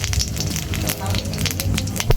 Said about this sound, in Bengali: আমি ফোড়নের জন্য একটা শুকনো লঙ্কা আর একটুখানি 5 ফোড়ন দেবো।